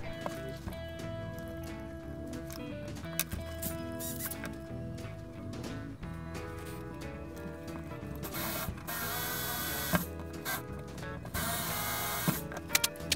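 A drill bores holes near the edges of a 15 mm MDF board for a homemade CNC machine. A mechanical whir and clatter builds into a louder, harsher grinding stretch toward the end.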